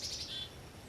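Small birds chirp on a cold winter morning at thirty below zero beside an off-grid log cabin, giving a few quick high tweets close by, clear over quiet wind.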